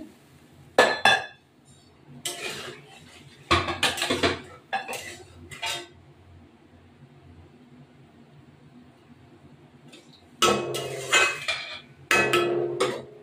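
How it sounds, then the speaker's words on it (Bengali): A lid goes onto a cooking pot of rui fish curry with several metallic clanks and rattles in short bursts, close and fairly loud, separated by quiet gaps and followed by a final cluster of clattering. "ঢাকা দিলাম"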